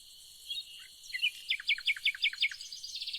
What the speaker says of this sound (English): Allowing the birds to sing a song